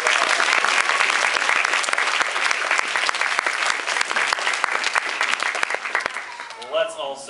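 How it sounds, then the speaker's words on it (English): Sustained applause from an audience at a Missoula Children's Theater production of Jack and the Beanstalk, a dense steady wash of many hands clapping for several seconds before easing off, with a voice rising briefly near the end. "Let's give them all a huge round of applause"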